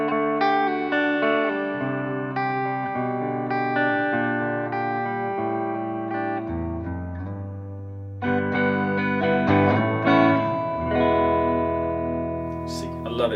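Electric guitar on the neck pickup of a 72 Deluxe Partscaster plays clear, sustained chords and single notes through effects, ringing phrases with a brief pause mid-way before a brighter run, close and alone.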